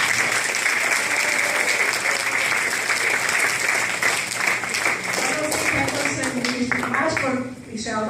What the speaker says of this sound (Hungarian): Tapsoljátok meg még egyszer!